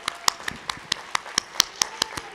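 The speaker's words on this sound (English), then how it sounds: "Please join me in a round of applause for your families. Stand up and clap." Graduates at a college commencement clap for their families, a sparse run of separate sharp claps in an irregular rhythm, close and distinct rather than a dense crowd ovation.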